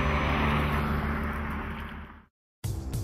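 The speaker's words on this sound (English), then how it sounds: "Under the hood is the now familiar high-revving V8, driving through the lightning-fast 7-speed dual-clutch manual transmission" A BMW M3 high-revving V8 drones steadily close by, a sustained engine note that fades slightly, cuts to near silence briefly, then returns abruptly.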